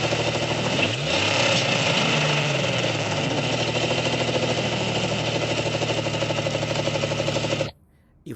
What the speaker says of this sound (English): a motor vibrates and then revs up and down